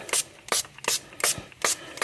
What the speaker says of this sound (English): You just kind of stand back, spray it on.